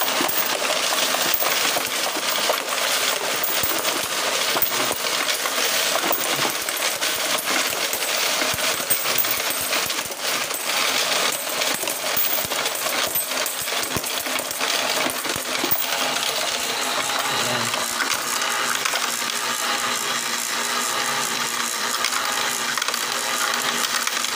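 Coins clatter and rattle continuously through a DIY coin sorter machine, dense and loud, with no talk.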